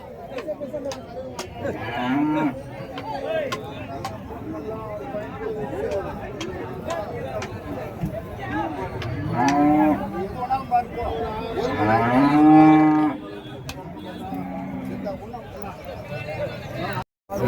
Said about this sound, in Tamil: ஸோ நாட்டு காளைங்க.